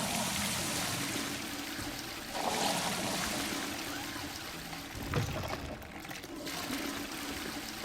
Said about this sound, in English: Water go down the drain.